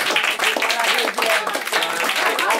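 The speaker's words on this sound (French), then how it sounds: "il faut l'applaudir." An audience applauds at a French literary festival show, a dense, even wash of clapping filling the whole moment, loud and close, with voices mixed in.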